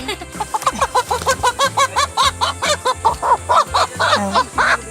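Chickens being caught cluck in a rapid, rhythmic series of short calls, close by and fairly loud, with a few louder squawks toward the end.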